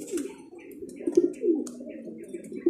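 Homing pigeons coo in soft, repeated low murmurs close by, a steady cluster of throaty calls with faint chirps above and someone talking over them.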